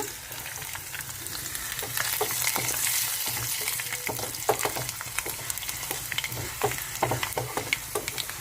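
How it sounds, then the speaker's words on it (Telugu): Dried red chillies added to a frying tempering of mustard, cumin and dals in oil for gongura curry, a close continuous sizzle broken by frequent sharp spoon scrapes and stirs, without speech. "పోపులు ఎగిపోయినాయి ఇప్పుడు ఎండుమిర్చి కూడా వేసేసుకుందాము"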